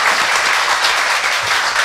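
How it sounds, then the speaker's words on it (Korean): A studio audience bursts into applause, a loud, dense, continuous wash of clapping close up that lasts the whole moment. "다시 한번 박수를 줘야 된다고 생각합니다"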